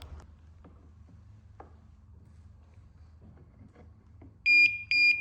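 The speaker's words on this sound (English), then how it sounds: "we're going to get the leak detector and see if we can locate it that way" Refrigerant leak detector on a Mitsubishi mini split with a cracked line set, giving two short loud electronic beeps near the end after quiet background hum and faint clicks.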